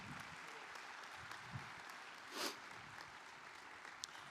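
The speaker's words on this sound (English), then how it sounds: "If we could please give them a round of applause for their good work." Commencement audience applause at a college graduation ceremony, a faint, steady wash of distant clapping from a large crowd that continues evenly throughout.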